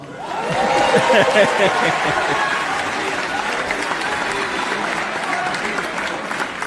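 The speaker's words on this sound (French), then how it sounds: "s'il vous plaît, applaudissez au moins pour mon habillement" Audience applause at a church gathering with a French-speaking pastor, steady and dense for several seconds, mixed with crowd murmuring and a few chuckles, holding at a fairly even level throughout.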